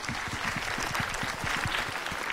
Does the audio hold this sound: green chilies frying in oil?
no